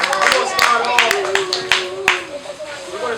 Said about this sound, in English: So let's definitely clap it up for them again